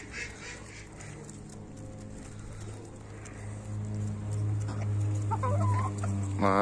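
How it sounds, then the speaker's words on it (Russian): Decorative chickens cluck and call repeatedly at close range in a yard, several birds overlapping over a steady low background hum, growing a little louder toward the end. "Такие вот у нас декоративные курочки."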